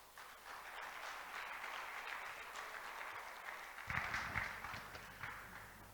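Audience applause at the 7th Africa Tourism Leadership Forum following a presentation, a steady broad wash of clapping at moderate distance that swells briefly toward the end.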